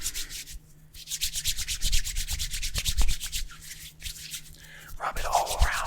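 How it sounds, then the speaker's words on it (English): Close-up hands rub together with lotion in a long run of steady, rapid back-and-forth swishes, with a brief pause and then a few looser, slicker rubs. "you're gonna take both your hands and you're gonna rub them together"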